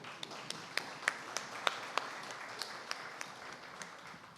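Scattered applause at an annual awards dinner, a modest, somewhat distant crowd with a handful of sharp, distinct claps rising above a soft background patter.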